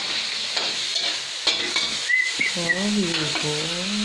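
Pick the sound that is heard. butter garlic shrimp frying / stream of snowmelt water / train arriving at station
butter garlic shrimp frying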